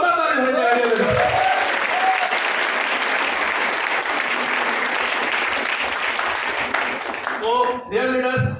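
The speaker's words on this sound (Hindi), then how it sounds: "एक बार जोरदार ताली हो जाए" A seminar audience bursts into loud, sustained applause after a motivational speaker's call for clapping, with a voice speaking over the start and the end of the clapping.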